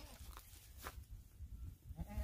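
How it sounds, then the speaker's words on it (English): Goats on a farm bleat faintly in the distance, short wavering calls standing out only slightly against the quiet outdoor background. "Now these goats, on the other hand, you can hear them in the background."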